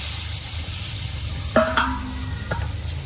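Chicken pieces are sautéed in a pan, starting to stick, giving a continuous close sizzle with a couple of sharp scraping stirs partway through.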